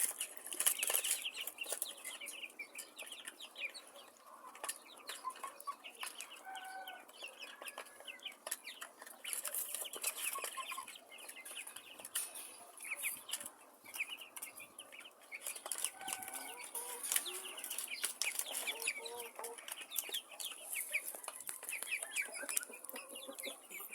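Hens and roosters clucking and calling, with occasional wing flapping: a busy, continuous chorus of overlapping clucks at a moderate distance, fairly quiet overall.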